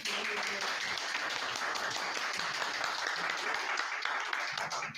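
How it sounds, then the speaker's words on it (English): Steady applause from an audience at a community awards ceremony, dense, even clapping that fills the whole stretch without pause or build, moderately loud and somewhat roomy. "I love hearing the applause"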